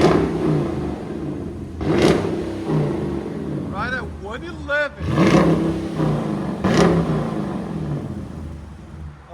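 A 2019 Dodge Durango R/T with a 5.7L HEMI V8 and rear muffler delete revs in several loud, sharp blips over a rumbling idle, with someone talking between the revs.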